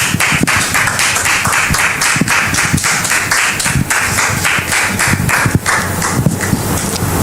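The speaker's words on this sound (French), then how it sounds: "Public, merci de le recevoir sous vos applaudissements" A studio audience on a French-language talk show applauds to welcome a father onto the stage, a steady, dense clapping with sharp individual claps standing out, loud and close throughout.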